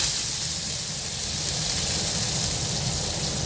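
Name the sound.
potatoes sizzling in hot mustard oil in a kadai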